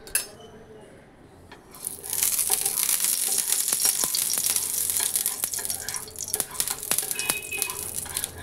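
Semolina batter for egg semolina paratha hits hot oil in a pan after a quiet start, breaking into a loud, steady close sizzle with occasional clinks of a utensil, no talk over it.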